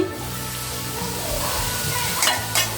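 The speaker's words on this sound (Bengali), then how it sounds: "কিছুক্ষণ পর পর এভাবে নেড়ে দিব" Chicken biryani sizzles steadily in a pot over medium heat, with a couple of brief scraping stirs near the end standing out over the constant frying hiss.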